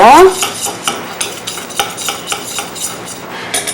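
Korean mustard paste is stirred briskly in a bowl, a spoon clinking and scraping in an even rhythm of close, fairly loud strokes.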